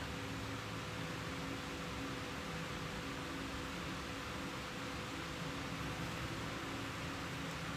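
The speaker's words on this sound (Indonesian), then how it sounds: "Oh, itu ada suara kipas, matiin dulu kipasnya berarti ya." An electric fan runs in a room, a steady even whoosh of air noise that holds unchanged throughout, with no speech.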